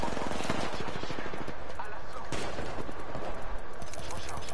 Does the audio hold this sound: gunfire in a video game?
yes